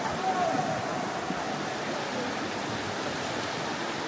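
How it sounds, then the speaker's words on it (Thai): Steady rushing flow of a stream inside a cave in Khammouane, Laos, a continuous broad wash of moving water that fills the whole moment at close range without easing. "เพราะมันเป็นน้ำไหลแบบนี้เลย"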